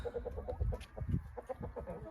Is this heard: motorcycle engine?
no